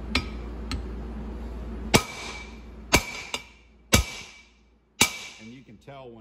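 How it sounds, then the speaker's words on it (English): Hammer blows driving a bushing flush into an E4OD/4R100 transmission pump in a workshop: sharp metallic strikes, roughly one per second, with a lighter tap between, loud and close, with some ringing decay. "you can tell when it bottoms out just by the sound of the hammer"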